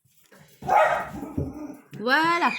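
Dog barks and yips in a home setting, a few short bursts mixed in with someone talking nearby.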